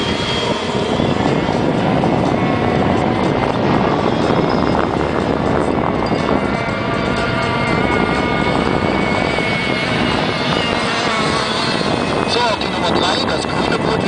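Dense, continuous engine roar from four racing boats, steady and loud throughout, with a German commentator's voice running over it.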